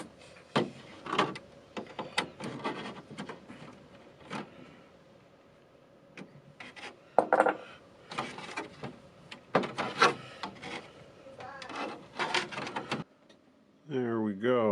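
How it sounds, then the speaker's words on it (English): Small screws are turned and hardware is handled while an LED kit is installed on a Redcat 53 Chevy COE Hauler RC truck, giving intermittent close scraping, clicking bursts with pauses, then talk at the end. "So start turning screws."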